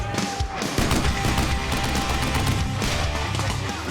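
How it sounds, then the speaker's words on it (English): Sustained machine-gun suppressing fire during an infantry training exercise, rapid overlapping bursts that rattle loudly and continuously from close range with no gaps. "leader calls upon the striker to lay down suppressing fire"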